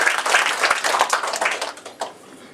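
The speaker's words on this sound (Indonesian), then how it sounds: "Berikan tepuk tangan buat Tuhan Yesus." A church congregation applauds, dense and close crowd clapping for a couple of seconds that thins out toward the end.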